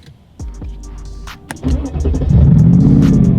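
Mercedes SLR McLaren engine cranking and catching at close range, rising into a loud, steady idle rumble that builds over about two seconds and holds.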